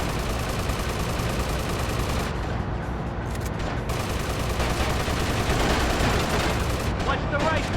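Sustained, dense gunfire from a shootout with gunmen in GTA Liberty City Stories, loud and continuous rapid shots packed together with little pause, a voice briefly heard beneath.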